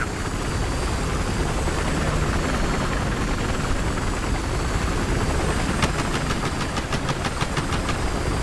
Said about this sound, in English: Their chopper's up.